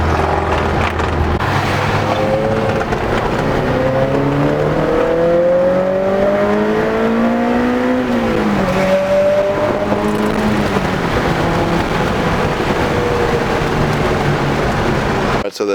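A modified widebody Honda S2000 accelerates hard, its engine note climbing steadily through a gear and then rising again after a brief dip. The loud, continuous roar is heard from inside the car with steady road noise.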